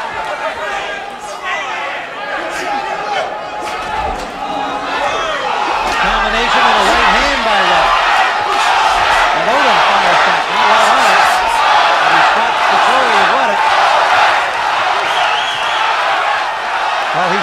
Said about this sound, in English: They're chanting Odom, Odom.